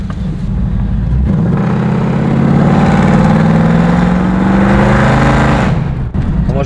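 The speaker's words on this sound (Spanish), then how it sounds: "Al pisar el acelerador automático, el carro ruge como una bestia." A 390-horsepower V8 car engine revs up loudly from a rumbling idle, the pitch climbing and holding for several seconds before dropping back, close up with no talk.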